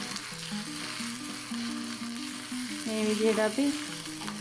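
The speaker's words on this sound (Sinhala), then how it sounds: "විනාඩි 2ක් විතර මේක කලවම් කරගන්නවා" Chili paste with chili pieces is stirred in a pan, giving a steady sizzle with soft scraping strokes beneath tonal background music, and a voice speaks briefly.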